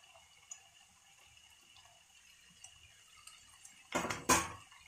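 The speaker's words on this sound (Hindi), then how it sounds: "अब हम इसमें टमाटर डालेंगे।" Tomatoes tipped into a pan while making vegetable macaroni: a near-silent kitchen, then two short, close splashing clatters at the end.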